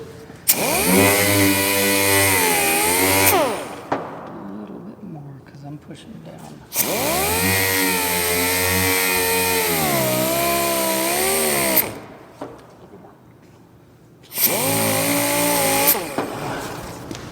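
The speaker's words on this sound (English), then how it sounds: "So I'm going to keep sanding." A loud, whining orbital machine sander wet-sands in long bursts, its pitch dipping and rising under load, with short quieter gaps and someone speaking briefly between passes.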